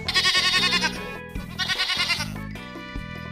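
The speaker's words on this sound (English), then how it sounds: "sheep" Sheep bleating in a short series of wavering, nasal cries, close and fairly loud, set over a steady musical backing with no talk.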